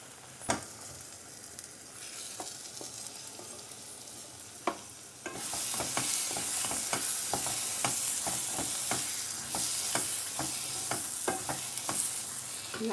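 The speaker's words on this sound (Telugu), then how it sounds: "అలా అయిపోయినప్పుడు మనం ఇందులో పన్నీర్ ముక్కలను యాడ్ చేసుకోవాలన్నమాట." Paneer pieces added to butter masala and stirred in a sizzling pan: sharp spoon scrapes and knocks over a quiet sizzle that swells louder midway, steady and close, with no talk.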